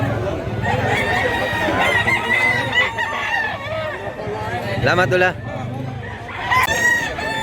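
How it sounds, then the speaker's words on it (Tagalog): Roosters crow repeatedly with drawn-out, wavering calls at a busy cockfighting market in Mantalungon, Cebu, amid clucking, crowd chatter and nearby voices talking. "Ang manok."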